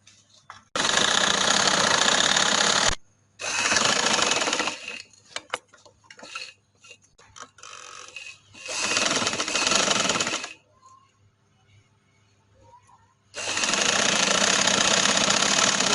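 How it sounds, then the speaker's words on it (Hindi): A sewing machine runs in loud sustained bursts while stitching the cuff of a party-wear dress, with a long run, pauses filled by small clicks and handling, then further runs. "कफ तैयार करने के लिए पहले मैं इधर सिलाई लगाऊंगी"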